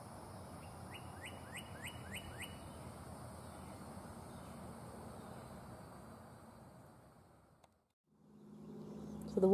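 Quick bursts of bird chirps sound faintly over a soft outdoor hush at the Sugar Mills Ruins near New Smyrna Beach, then fade to near silence before a brief louder rustle at the end.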